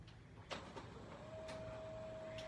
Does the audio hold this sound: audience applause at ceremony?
no